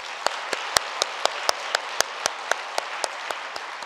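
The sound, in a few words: congregation applause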